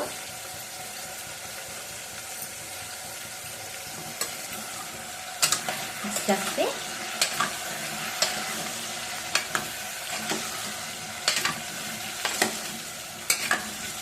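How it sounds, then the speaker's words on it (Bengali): Dum aloo with Kashmiri chili powder sizzles quietly in a pressure cooker, a steady low frying hiss broken by a series of sharp scraping and tapping stirs of a spoon against the metal pot. "নাড়তে থাকবো"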